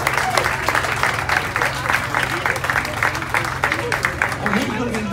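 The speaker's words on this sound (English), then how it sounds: "Let's give her a round of applause" Applause from a crowd at a VIFP Diamond/Platinum party aboard the Carnival Horizon cruise ship, steady clapping throughout with voices mixed in the background.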